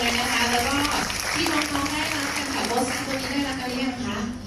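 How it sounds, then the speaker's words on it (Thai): An audience applauds at a Thai gathering with fighter pilots, a dense steady clatter of clapping running throughout while a voice talks over it. "ขอเสียงปรบมือหน่อยนะคะให้กับทุกท่านเลย"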